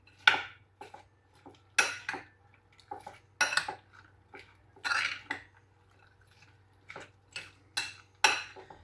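Pomegranate seeds and other fruits stirred together in a dish for a pomegranate dessert, with a run of spaced, clinking spoon-against-bowl taps and scrapes, fairly close and light, with no talking.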